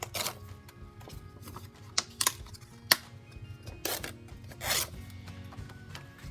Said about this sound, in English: I'm going to start by cutting down my pictures.